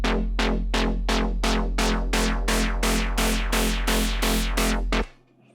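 A detuned Serum 2 synth lead with macro modulation plays a run of twelve even, punchy notes with a wobbling, modulated buzz over a steady low tone, then stops abruptly.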